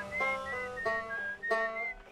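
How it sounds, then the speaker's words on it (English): A character whistles a tune in the space exploration video game Outer Wilds. The clear, melodic notes come in short rising and falling phrases over a faint background hum. "there's some whistling"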